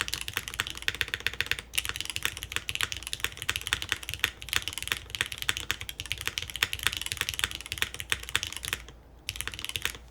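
Rapid, dense clacking of typing on a Neo98 mechanical keyboard, close and full-bodied keystrokes in a steady stream with a brief pause near the end.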